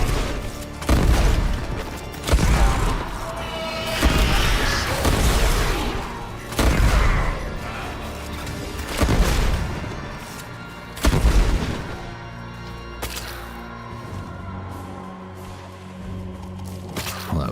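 Brahma bow explosions in Warframe, a series of heavy, booming blasts repeating every second or two with rumbling tails, loud and close amid continuous game noise.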